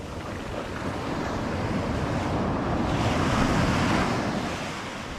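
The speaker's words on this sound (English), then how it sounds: "The beach lip is where the waves break." Surf breaks steadily on a structureless sand beach during fly fishing for striped bass, a continuous loud wash of waves with some wind noise that swells slightly toward the middle and eases at the end.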